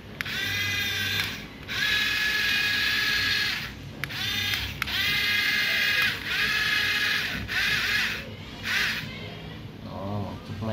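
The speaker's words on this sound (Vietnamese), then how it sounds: "Một chiếc máy xúc từ xa lên dốc lên dốc luôn nha các bạn ơi" A remote-control toy excavator grinding up a slope, its small motor whining in bursts of a few seconds with short pauses between them, close and fairly loud, with mechanical clicks.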